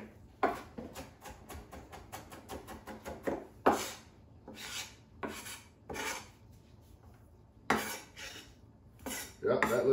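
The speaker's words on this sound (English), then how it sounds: "You can cut the pepper up big, or you can cut it, chop it up real small." A knife chops a pepper on a board for meat loaf, with a quick run of light taps followed by slower, heavier cuts and scraping strokes, close and clear.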